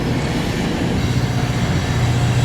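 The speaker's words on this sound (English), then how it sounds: "we watch some GO trains go by" GO commuter trains roll past in Toronto with a loud, steady rumble and low droning hum that stays constant throughout, heard close by from a city walkway.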